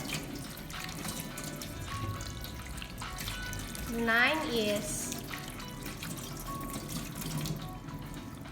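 Tap water runs steadily into a sink during handwashing in a hematology laboratory, a soft continuous trickle and splash under a person talking.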